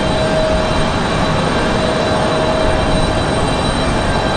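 An airplane landing at Raleigh-Durham airport in a gusty northeast crosswind, crabbing on approach; a loud, steady broadband engine roar holds without a break, close and unbroken, with no voices over it.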